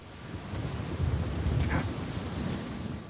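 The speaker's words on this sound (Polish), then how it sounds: "No idzie burza, idzie burza, idzie burza." In Uncharted 4, a stormy ambience of rushing wind and low rumbling as a thunderstorm builds, swelling louder in the middle and staying dense and continuous throughout.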